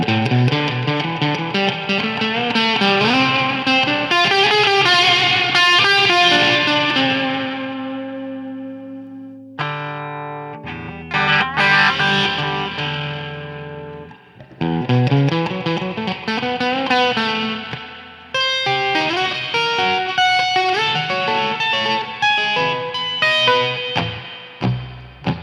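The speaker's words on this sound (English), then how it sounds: "There's a bit of distortion." Loud distorted electric guitar chords and riffs through a tube amp modified with transistors, with heavy effects and echo, playing continuously with a couple of brief pauses, no voices.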